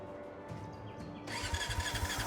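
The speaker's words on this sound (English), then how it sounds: "Let's give that engine a spin." A prototype engine in the video game Brassheart cranks and catches, then settles into a low, rhythmic chugging idle, close and steady with no talk over it.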